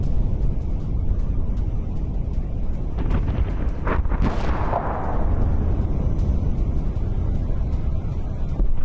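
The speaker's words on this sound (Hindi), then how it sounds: "आईआरजीसी मुख्यालय के नजदीक पहाड़ी में धमाके।" Explosions on a hillside near the IRGC headquarters in Tehran, heard as a rumbling, wind-buffeted roar with a sharper blast around the middle, loud and continuous outdoors.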